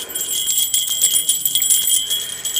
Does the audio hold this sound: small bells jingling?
yes